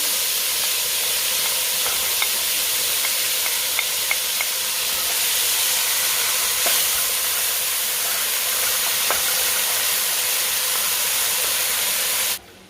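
Chicken frying for Chinese honey garlic chicken, a steady loud sizzle and hiss from the pan running unbroken for about twelve seconds with faint clinks of stirring, then cutting off abruptly at the end.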